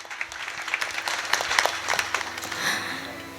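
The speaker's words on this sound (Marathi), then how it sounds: "एकदा आमच्या शाळेने दिदी साठी जोरदार टाळ्या वाजवा." A school audience claps in response to a call for loud applause during a kirtan performance, scattered, uneven clapping that swells and fades over a few seconds at moderate volume.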